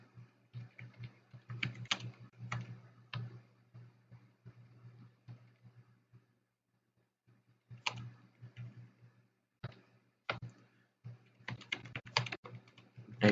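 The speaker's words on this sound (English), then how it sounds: "Type in a message from node B and node A." A message is typed on a computer keyboard in quiet, close bursts of rapid key clicks, with one pause of a second or so mid-way before the typing resumes.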